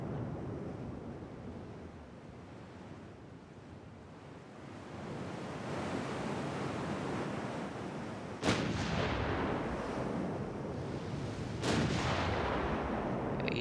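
Naval gunfire from warships in Ultimate Admiral Dreadnoughts: steady ocean surf and wind noise, broken by two loud, sharp cannon booms a few seconds apart, each followed by a rolling rumble.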